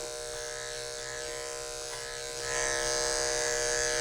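Electric dog grooming clippers fitted with a snap-on comb buzz steadily and close up, a constant motor hum that grows slightly louder and brighter partway through, with no voices.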